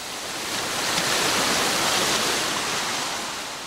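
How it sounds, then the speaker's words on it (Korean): Gentle sea waves wash onto a Normandy beach, a steady broad rushing wash of surf that swells slightly and fades, heard alone with no voices. "파도 소리 잔잔한 노르망디 해변입니다."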